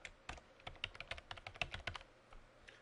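Fingers type an email address on a computer keyboard in quick, irregular bursts of close, crisp key clicks, with a short pause before the last few taps and no talking.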